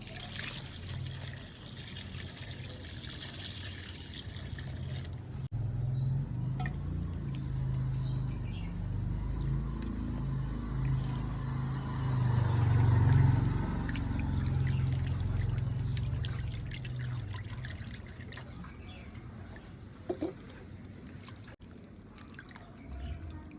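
Pieces of goat head are rinsed in water, a steady trickle and pouring with soft patters and splashes continuing close by throughout.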